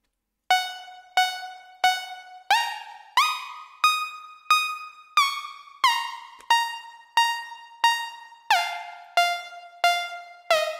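A basic saw-wave preset on the Vital synthesizer plays a melody of about fifteen bright, buzzy plucked notes. Each note has a sharp attack and a quick decay, the notes step up and down in pitch at a steady pulse, and no one talks.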